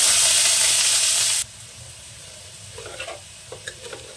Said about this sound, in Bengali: আমি ফোড়নে একটা শুকনো লঙ্কা দিলাম, কটা জিরে দিলাম, বিনস আর গাজরটা দিয়ে দিলাম